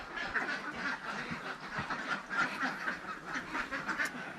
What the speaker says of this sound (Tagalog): Lalagyan natin to ng 38 na mga ducklings.